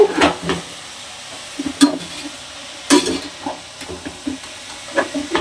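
Chopped vegetables for biryani sautéing in a pan, with intermittent spoon scrapes and stirring knocks over a soft sizzle, close and fairly loud in irregular bursts.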